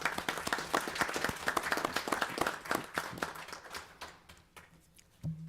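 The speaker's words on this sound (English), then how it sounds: "round of applause for you." A round of applause at a village board meeting, many hands clapping in a dense patter that slowly thins and fades, ending with a brief low hum.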